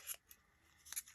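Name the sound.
scissors cutting paper scraps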